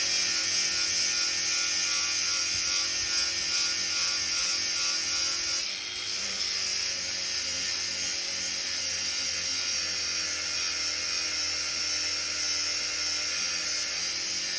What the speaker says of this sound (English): I might turn it to the grinder a little bit like this, or like this, to give me a hollow grind.